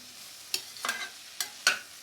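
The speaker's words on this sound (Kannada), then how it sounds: "ಇದನ್ನು ಅಷ್ಟೇ ಚೆನ್ನಾಗಿ ಫಸ್ಟ್ ಆಯಿಲಲ್ಲಿ ಫ್ರೈ ಮಾಡ್ಕೊಳ್ಳಿ" Okra frying in oil in a pan, a soft low sizzle under four quick clattering scrapes of a spatula spaced across the moment.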